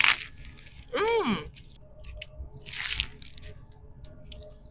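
An ice cube crunched between the teeth in a sharp, close burst, with a faint murmur from the speaker right after and quiet room noise around it.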